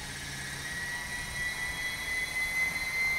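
An Assault 700 RC helicopter spools up slowly, a steady high whine from motor and rotor holding throughout and building slightly in loudness toward the end, with no voices.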